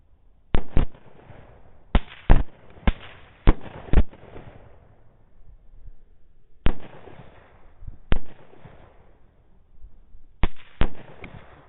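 Rifle shots ring out during a thermal night hog hunt, about a dozen sharp cracks spaced in quick bursts with gaps between them, each followed by a brief echoing tail, with no talking.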